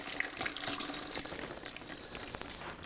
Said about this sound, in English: Just pour it back in gently.